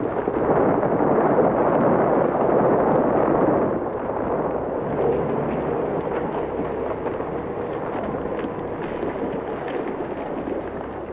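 Deep, continuous rumble of falling avalanches in a snowy mountain blizzard, a loud dense roar that holds steady and eases slightly after a few seconds, with no voices over it.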